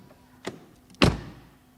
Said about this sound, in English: And door closing sound.